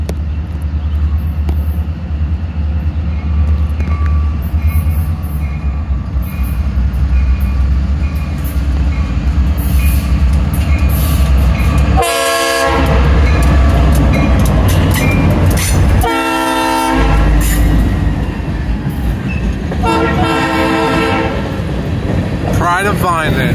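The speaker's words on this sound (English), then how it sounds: "This is the shortest train I've ever seen here." A short freight train led by MI-61 rumbles past steadily with a rhythmic clatter of cars over the rails, punctuated by a couple of loud horn blasts partway through.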